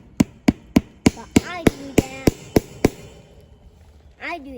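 Hammer blows in a garden, likely on a wooden trellis: ten sharp, evenly spaced strikes close by, followed by a short pause and a voice speaking.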